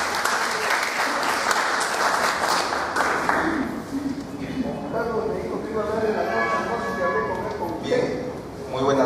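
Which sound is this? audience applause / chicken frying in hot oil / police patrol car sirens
audience applause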